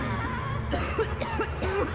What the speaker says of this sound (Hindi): उसे भी खांसी आनी शुरू हो गई थी।